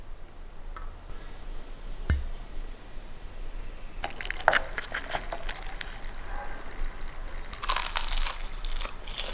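Bites into crunchy fried egg rolls give sharp, close crackling crunches, starting with a lone snap and then clustering into loud bursts of crisp crunching over a quiet background.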